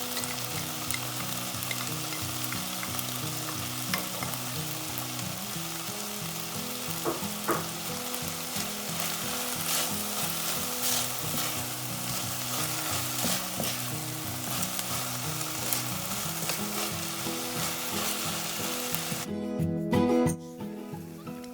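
Pork being sautéed in a pan with shrimp paste, the oil sizzling and frying steadily and loudly up close, with occasional stirring scrapes and no talk heard.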